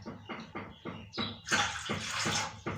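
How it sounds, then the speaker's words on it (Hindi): Water is poured in several short splashing bursts for making homemade yogurt, then runs in a longer steady gush, close and clear with no talking. "ये तीन हमने इसमें पानी डाल दिया।"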